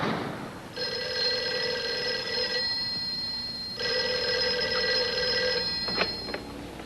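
An older telephone rings in two long electric bursts separated by a pause, followed by a brief click, heard at moderate level over a faint room hiss.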